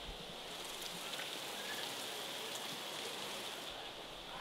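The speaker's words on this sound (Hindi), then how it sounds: "आज सीरियसली फोर्थ डे है और कंटिन्यू बारिश हो रही है" Steady, continuous rainfall pours down as a dense, even hiss of drops striking surfaces, unbroken and close throughout with no voices over it.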